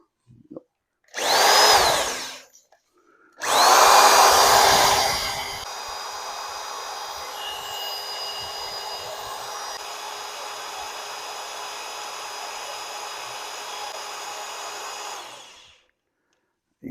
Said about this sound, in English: I got my drill stuck down the distributor hole. It's on the oil pump shaft. And I'm going to spin it.